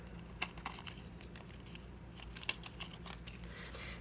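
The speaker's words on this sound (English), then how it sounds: "let me go ahead and take my scissors, and I'm going to go ahead and separate these." Scissors cut Cricut adhesive foil close by with a few quiet, sharp snips and crinkles scattered over a soft background.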